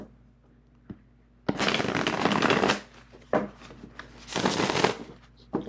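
Playing cards riffled in two quick, snappy bursts, with a faint click and soft handling noises between them, close and fairly loud.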